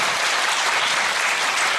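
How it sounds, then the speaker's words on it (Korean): Audience applause after a parenting talk at an elementary school special lecture, steady dense clapping for under two seconds with no voices over it. "박수였습니다"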